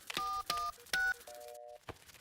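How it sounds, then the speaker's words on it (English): Cartoon mobile phone dialing tones: three short electronic beeps in quick succession, then a longer sustained two-note tone, clear and alone with no talk. "I'll ring for more elves. Oh, where can I get a signal on my phone?"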